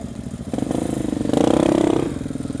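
A KTM 690 motorcycle with an FMF exhaust that has no baffle, only a spark arrestor, runs close by with a steady thumping single-cylinder note that swells into a louder rev midway, then eases back.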